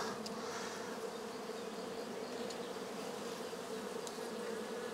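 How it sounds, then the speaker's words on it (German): Honeybees hum in a dense, steady drone at an opened Dadant hive, a continuous close buzz with no voices. "hier hängen einfach nur Bienen rum"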